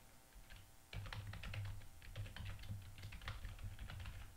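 Rapid keystrokes on a computer keyboard as an email address is entered, a steady run of close clicks over a low hum with no talking.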